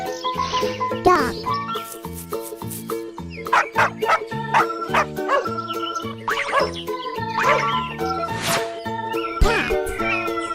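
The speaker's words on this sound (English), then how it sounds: "Dog." Dog barking over a bright, busy children's music backing, with several short bursts spread through the track; the bark is loud but partly blended into the melody.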